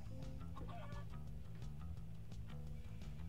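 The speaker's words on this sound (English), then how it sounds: "One more hen." A hen in the Minecraft video game clucks faintly in short, repeated bursts over a steady, quiet background.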